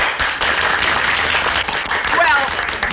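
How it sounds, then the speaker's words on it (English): An audience gives Private Gillis a round of applause, dense and steady clapping throughout with voices mixed in beneath it. "another round of applause for Private Gillis"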